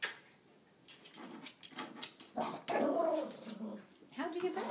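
A stuck dog whimpers and gives short yips in a few separate bursts, close and fairly quiet, while someone talks to it softly over and around the sounds.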